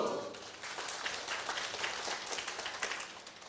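An audience claps at a Taiwanese political assembly, the preparatory meeting of a self-styled parliament, producing a dense, steady patter of many hands that holds for several seconds without talk.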